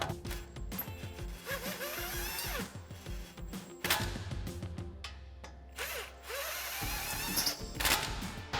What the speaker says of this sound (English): we're gonna get our cordless with our 17, and we're gonna just take these in until they stop